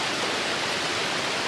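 The Silima 5 waterfall in North Sumatra gives off a dense, even roar of falling water, steady and loud without any break.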